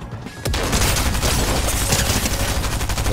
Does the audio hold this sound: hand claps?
no